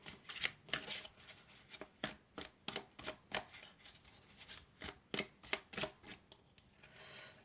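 Fairy tarot cards being shuffled by hand, a close, crisp run of riffling flutters repeating in quick uneven bursts with no talking.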